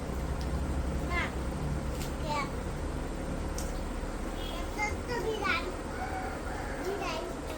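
Several short cat meows rise and fall over a busy background of children's voices.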